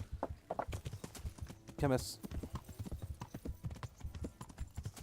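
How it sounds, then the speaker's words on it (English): Horse hooves clip-clop in the medieval RPG Kingdom Come: Deliverance, a steady run of hoof beats under continuous talk, with a brief whinny partway through. "I gotta get on my horse"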